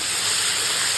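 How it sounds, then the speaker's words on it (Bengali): Chicken frying in a hot pan for chowmein sends up a loud, close, unbroken hiss and sizzle, heard alone without talk. "এখানে ভাজা হচ্ছে চিকেনটা"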